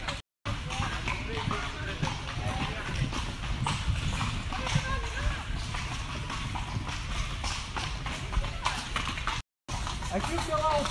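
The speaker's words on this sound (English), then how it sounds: "We decided in our free time for lunch to ride this horse-drawn carriage." Horse-drawn carriage ride in Portugal, hooves clip-clopping in a steady rhythm on the road close by, with people talking over it throughout and two brief dropouts.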